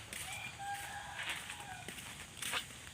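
Chickens cluck and call faintly near a house during rain, short chirpy sounds over a soft steady background hiss.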